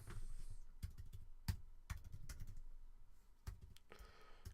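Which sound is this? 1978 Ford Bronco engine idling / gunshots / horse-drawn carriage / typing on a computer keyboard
typing on a computer keyboard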